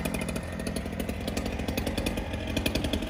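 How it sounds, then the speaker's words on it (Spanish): A Husqvarna gasoline cut-off saw slices paving stones for a patio, its two-stroke engine buzzing loud and close in a fast pulsing rhythm, with no voices. "Se está utilizando este serrucho de gasolina, es un Husqvarna"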